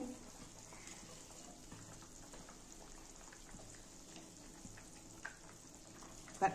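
Potato and egg curry gravy bubbling in a pan, a faint, steady simmer with soft popping and crackling close by and an occasional light clink near the end.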